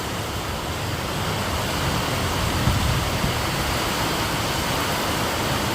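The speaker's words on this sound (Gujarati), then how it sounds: "ફૂલ વાવાઝોડા સાથે વરસાદ ચાલુ થઈ ગયો." A heavy rainstorm with strong wind in Navsari roars as a dense, loud, unbroken wash of noise that swells slightly midway, with no talking.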